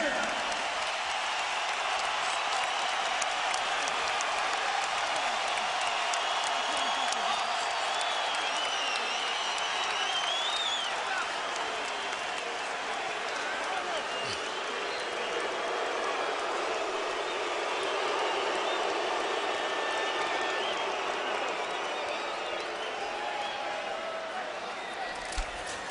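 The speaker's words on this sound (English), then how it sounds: "And the crowd is on its feet again." A boxing arena crowd on its feet at the final bell, a broad sustained roar of applause and cheering filling the hall, steady and dense throughout with no clear pauses.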